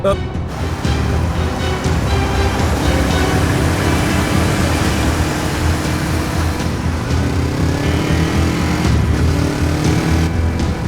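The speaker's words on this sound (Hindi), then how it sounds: "फातेह कोई मेरा पीछा कर रहा है, मोटरसाइकिल पर है" A pursuing rider's motorcycle engine drones loud and steady throughout, a continuous mechanical roar with passing traffic-like swells and no speech.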